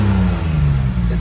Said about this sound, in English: that muffler sounds good. It's not very loud, but let me push it up